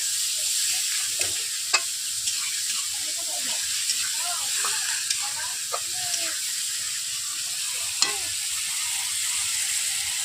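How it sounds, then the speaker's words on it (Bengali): Chopped onions with salt fry in a pan while being stirred, a steady close sizzle broken by sharp spatula scrapes and taps, with faint talk in the background. "পেঁয়াজগুলোকে আমি এইভাবে নেড়ে নিচ্ছি।"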